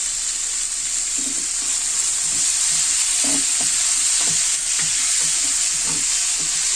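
Peppers and mixed vegetables sauteed in a pan give a loud, constant sizzle, with soft scraping knocks as they are stirred throughout.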